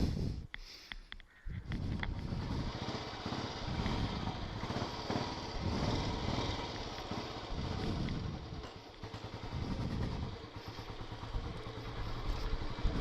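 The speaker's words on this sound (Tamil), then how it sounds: "வண்டியை ஸ்டார்ட் பண்ணுறேன்." Royal Enfield-style Super Bullet motorcycle engine starting outdoors, a brief crank and catch followed by a steady, low thumping idle that runs on close by without any talk.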